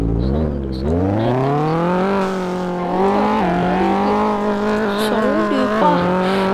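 Engine of a car in a car driving video game revving hard, a loud rising whine that climbs and holds with gear-like pitch swoops and brief tire-squeal wobbles near the end.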